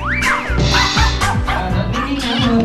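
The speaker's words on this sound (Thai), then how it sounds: "อ๋อสุนัขล่าเนื้อนะฮะ ดูท่าทางอาการเขาสุนัขล่าเนื้อแน่ ๆ เลยนะฮะ" A hound dog barks and yips several times in quick succession, loud and close, with some whining between the barks.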